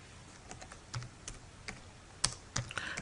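Keystrokes on a computer keyboard tap out in an uneven run of close, crisp clicks, sparse at first and then quicker near the end, with no voices.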